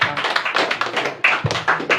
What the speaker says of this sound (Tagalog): Yan po ang palakpak ng mga buhay.